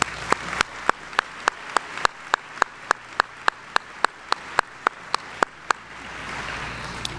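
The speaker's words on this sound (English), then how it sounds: "Please join me acknowledging them with a round of applause." Audience applause fills a 2024 Joliet Catholic Academy graduation ceremony, a soft wash of distant clapping punctuated by one sharp, evenly timed clapper close by, beating steadily until near the end.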